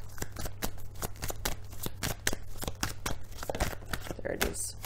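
Tarot cards being shuffled by hand, a quick run of crisp riffling flutters and soft slaps at close range over several seconds, with a faint voice underneath.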